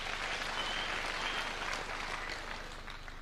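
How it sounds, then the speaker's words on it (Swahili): Sustained audience applause fills a gathering in Kirinyaga, Kenya, with dense, steady clapping from a large crowd that carries through from start to finish without any talking. "Tujipigie makofi"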